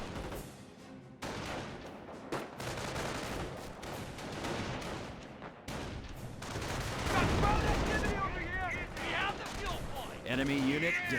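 Mortar shells pound engineers in a Company of Heroes battle, with repeated booms and bursts of gunfire close by, while a voice talks over the combat.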